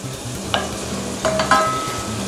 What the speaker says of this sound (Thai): เราก็เติมกระเทียมลงไปค่ะ